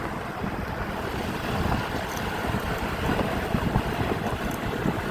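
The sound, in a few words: wind blowing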